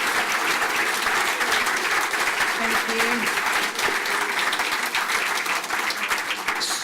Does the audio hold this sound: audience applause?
yes